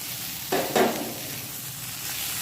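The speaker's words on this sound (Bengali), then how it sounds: "পেঁয়াজ লঙ্কা এটাকে একটু নাড়বো ভালো করে। পেঁয়াজটা হয়ে গেছে ভাজা ভাজা।" Onions and chillies sizzle in a hot pan under a soft, steady frying hiss, broken by two short scraping stirs close by.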